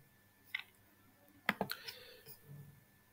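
A few sharp computer mouse clicks, quiet and isolated, come in a short cluster against a faint hum.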